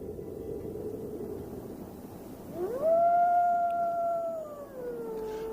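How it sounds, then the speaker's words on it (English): Wolves howl in the Russian taiga forest, a long rising and sustained howl with a second voice above it, clear and moderately near over a low ambient rumble, then sliding down. "Wolves are common."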